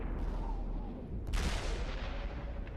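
A tank cannon fires once in a tank video game, a single sharp blast partway through against a steady rumbling battlefield background.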